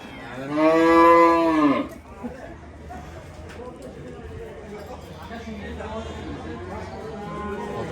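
A large ox at a cattle market gives one long, loud lowing moo near the start. Market chatter and people talking continue beneath and after it.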